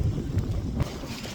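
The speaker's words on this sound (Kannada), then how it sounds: "ತುಂಬ ಗಾಳಿ ಇದೆ." Strong wind gusts across the peak of Kudremukha on a mountain trek, buffeting the microphone with a low, rough rumble that stays steady and close for a moment, then eases slightly.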